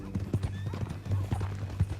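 Horse hooves clip-clop in Red Dead Redemption 2, a quick, uneven run of close hoof strikes on hard ground, with a low steady hum underneath.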